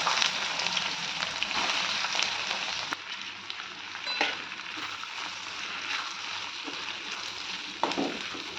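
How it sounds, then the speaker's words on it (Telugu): Ivy gourds fry in hot peanut oil for an Andhra-style fry, a steady close sizzle with a few sharp clicks and scrapes of stirring, continuous throughout with no voices. "దొండకాయలు నూనెలో వేసుకున్నాం."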